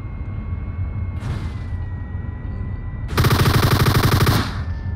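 Automatic gunfire in a PUBG match: a loud, rapid burst of shots lasting about a second and a half, preceded by a fainter single shot or short burst.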